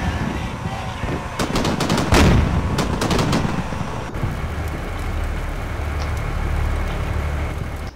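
T-72 tanks trade fire in the video game Combat Mission Shock Force: a loud cluster of sharp shots and bursts packs the first few seconds, then fades into a low, continuous battlefield rumble.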